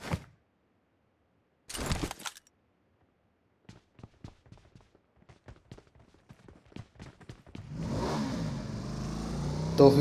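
Scattered light clicks and steps give way to a motorcycle engine in BGMI starting up and revving loudly, then holding a steady close drone through the final seconds.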